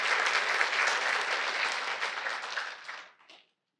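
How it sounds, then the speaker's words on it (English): An audience claps steadily at a county Veterans Day ceremony, a sustained wash of applause that thins and tapers off near the end. "So another round of applause for Tom Hickey."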